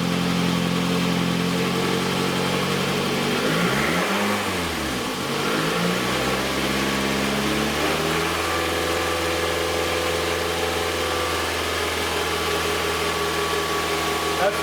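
A car engine is brought up to about 2,500 RPM and held there during an alternator charging test, a steady mid-pitched drone that sweeps down and back up in pitch before settling into a level, sustained hum.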